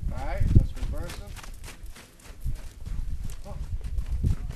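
A horse walks on the ground, its hooves clip-clopping in an irregular rhythm close by, mostly under a person giving riding instructions.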